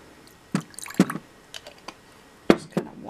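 Apple cider vinegar is poured over sea salt to wash it down, giving a few separate splashy, wet squishing bursts with short pauses between them, close and fairly loud.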